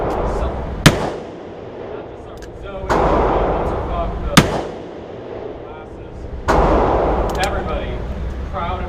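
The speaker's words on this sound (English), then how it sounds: "Here I'm attempting to shoot a revolver." Three sharp, loud revolver shots spaced a few seconds apart outdoors, each followed by a rumbling echo, with voices talking in between.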